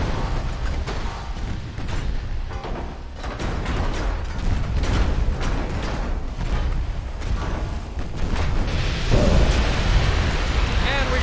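A warship detonates in the naval game Ultimate Admiral Dreadnoughts, with rumbling booms and crackling blasts over steady battle noise, swelling into a louder, denser explosion near the end.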